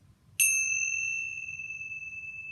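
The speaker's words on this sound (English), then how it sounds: "The other thing they have are these prayer chimes." A single bright metallic prayer chime at the Monkey Temple in Kathmandu struck once, its clear ringing tones sustaining and slowly fading over a quiet low background hum.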